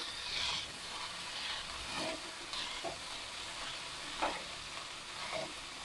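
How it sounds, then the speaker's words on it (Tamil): Chopped onions and roughly cut tomatoes sauté in a pan for paneer butter masala, with a soft continuous sizzle and occasional stirring scrapes, fairly quiet and without speech. "இப்போ இதோட தக்காளி சேர்த்து நல்லா வதக்கிக்கணும்."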